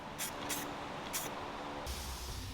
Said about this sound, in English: I'll apply black paint to the screws that will secure the foot treadle.